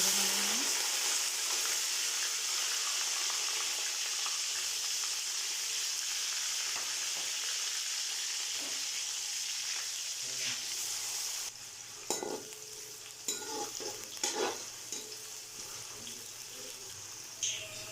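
Chopped onions and cumin seeds frying in hot oil for vegetable pulao, a steady close sizzle throughout, joined near the end by scattered clinks and stirring knocks as the pan is worked.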